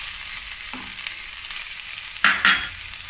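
Boneless cooked fish being mashed and stirred into a frying masala mixture, a soft steady sizzle with a couple of sharper scraping knocks near the end, no voices.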